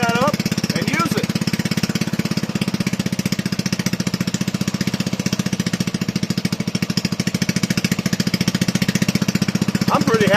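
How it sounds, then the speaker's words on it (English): Small single-cylinder engine on a Toro model 18005 lawn mower runs steadily at a fast, even idle, loud and close throughout, with a rapid regular firing pulse and faint voices briefly at the start and end. "I think that's going to make a good running little engine on that mower."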